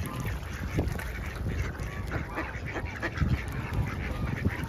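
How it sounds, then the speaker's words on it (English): Ducks and swans quack and honk by the water on a wet day in Wales, a busy cluster of overlapping calls close by with no talk. "We've got all these ducks and swans coming out."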